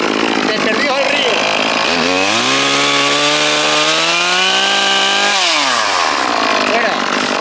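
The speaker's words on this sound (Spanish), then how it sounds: "Así que te vas corriendo ahora a por la motosierra, Iván, y deja aquí la cámara." Chainsaw running close and loud among carob trees, the engine revving up into a sustained high whine that holds for several seconds before dropping off, with speech mixed in.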